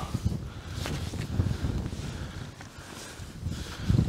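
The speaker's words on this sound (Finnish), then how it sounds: "Kyllä niin järkyttävä tää tuuli" Strong wind buffets the microphone in gusty rumbles, with rustling noise throughout.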